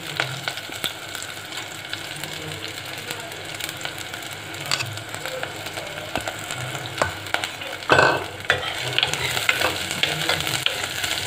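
Finely chopped small onions sauté in hot oil for a dried-fish curry, giving a steady, close crackling sizzle with occasional clinks and a louder stirring scrape near the end.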